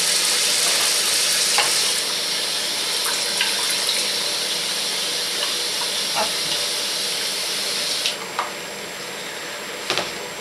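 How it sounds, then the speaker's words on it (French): Hot water pours steadily into a bowl of Ayurvedic powders, a continuous close hiss and trickle lasting throughout with a few small clinks near the end. "Alors, maintenant, je vais mettre de l'eau chaude."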